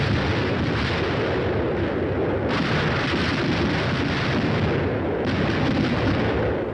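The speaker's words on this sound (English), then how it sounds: "The air bursts fired by a battalion of 105mm howitzers present a lively show." A battalion of 105mm howitzers fires air bursts, heard as dense, continuous rumbling blasts and booms that roll and overlap with no gaps, loud and distant.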